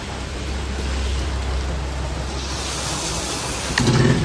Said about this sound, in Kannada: ಜೋರು ಮಳೆ ಮಾರೆ